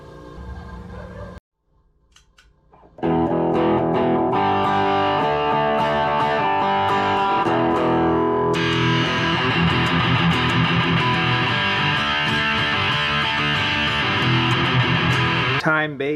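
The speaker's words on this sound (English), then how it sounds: "Gain boosting pedals, such as a distortion pedal, are usually placed in front of the preamp." Electric guitar played through a distortion pedal in front of the amp's preamp, amp on its clean channel, starting with a brief clean phrase, then after a pause a loud, sustained, crunchy chord passage that rings continuously to the end; speech may also be present.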